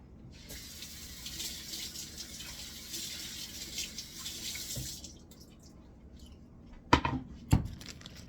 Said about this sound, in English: And then rinse the board off.